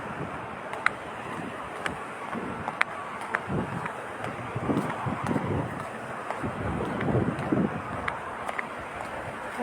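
Cold wind blows steadily outdoors, rumbling against the microphone, with scattered faint clicks and no talking.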